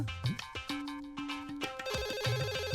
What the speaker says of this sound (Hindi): टेलीफोन की घंटी बज रही है सर